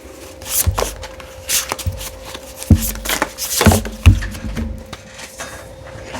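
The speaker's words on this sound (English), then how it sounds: "So we have to put him back in the deck and shuffle again." Tarot cards being shuffled by hand at close range, a run of soft papery riffles and slaps with a few sharper knocks, irregular in rhythm, with no voices.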